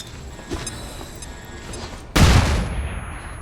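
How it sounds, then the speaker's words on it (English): A flashbang grenade goes off in the game XCOM 2, Long War 2, as one sudden loud blast that decays over about a second, preceded by quieter game sounds. "So, flashbang on these 2."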